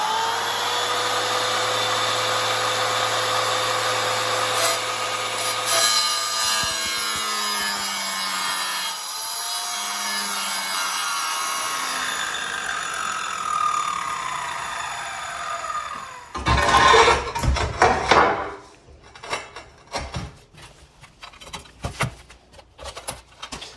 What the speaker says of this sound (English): So I'm gonna cut this with the wet saw.